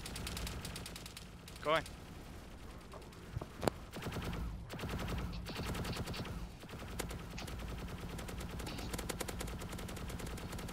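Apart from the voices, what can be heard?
gunfire in DayZ video game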